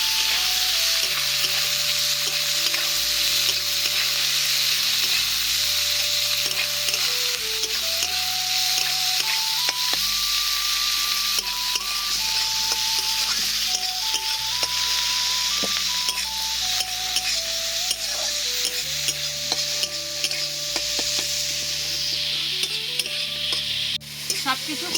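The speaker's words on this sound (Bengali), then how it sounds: "এবার সব কিছুকে একটু ভালো করে ভেজে নেব।" Chopped tomatoes and slit green chillies fry with onion in oil for a Bengali fish curry, giving a steady sizzle with stirring scrapes throughout, played under continuous background music.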